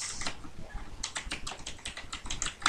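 A short phrase being typed into Notepad on a computer keyboard, heard as a brisk run of close, clicky keystrokes at an irregular pace with a louder tap at the end and no speech.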